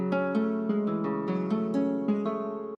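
A synthesized guitar-like plucked bass line plays a short melodic pattern of repeated notes as a slow upward strum, steady and mid-volume, with no voices.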